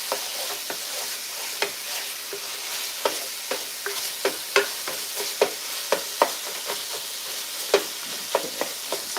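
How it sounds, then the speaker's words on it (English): Ground turkey sizzling in a hot pan, with a steady frying hiss and frequent sharp scraping clicks as it is stirred and pushed around. "Just keep all those spices in the meat and just keep on moving it around."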